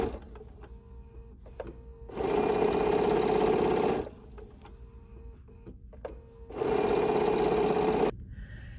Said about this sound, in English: I'm just sewing my first two pieces together.